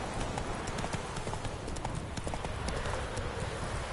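Roach, Geralt's horse in The Witcher 3, trotting with rapid, steady hoof clops over a dense, loud ambient bed, the hoofbeats close and continuous throughout.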